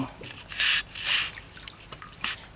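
Filtered water pouring into a pearl-farming tank, gushing in a few short bursts over a quiet background, close and moderately loud.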